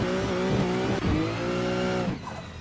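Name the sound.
drift car accelerating in video game Assetto Corsa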